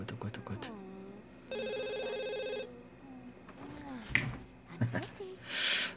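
One long electronic ring of a telephone in The Sims 2 sounds in a single burst, surrounded by short clicks, game effects and a voice talking before and after it.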